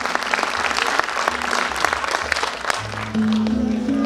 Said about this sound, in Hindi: एक बार जोरदार इनके लिए ताली हो जाए सीजन 2 में।